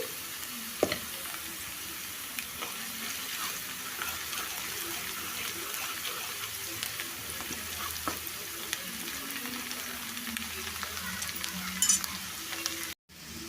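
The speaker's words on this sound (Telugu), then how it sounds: "ఉల్లిపాయ ముక్కలు ఫ్రై అయిపోయాయి ఇప్పుడు దీంట్లో పసుపు వేసుకోవాలి" Onion pieces fry in a pan for a spinach and garlic curry, giving a steady close sizzle with intermittent scraping and stirring clicks throughout.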